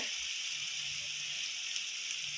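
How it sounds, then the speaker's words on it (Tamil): Coriander and mint leaves sautéing in sesame oil for a chicken kulambu, giving a steady, soft sizzle and hiss throughout, fairly quiet and alone. "தேவையான புதினா இலை நல்லா வதக்கி விட்டுக்கரலாம்."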